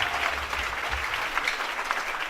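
A church congregation at a testimony service claps together in a steady, dense wash of applause that fills the room and holds at an even level throughout.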